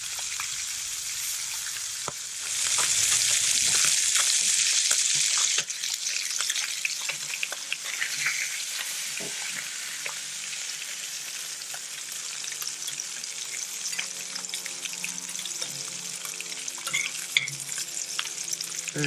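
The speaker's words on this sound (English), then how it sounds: "That thinner fish is cooking and it's just about ready to go to come off the heat." Rainbow trout fillets fry in a pan with a steady, close, broadband sizzle that swells loudly after a couple of seconds, then settles into crackling and spitting, with faint stirring and clinks throughout and no talk.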